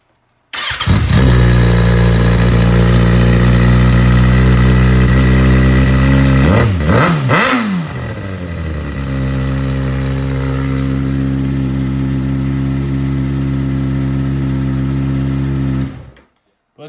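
A Kawasaki ZX636 motorcycle engine runs loud and close, revving sharply a few times mid-clip before settling back to a steady, throbbing idle that cuts off at the end.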